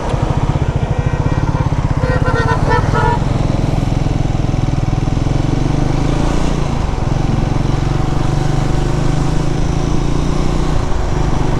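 A motorcycle ridden along a road toward a home village, its engine droning loudly and steadily throughout at close range with wind rush, no clear talk over it.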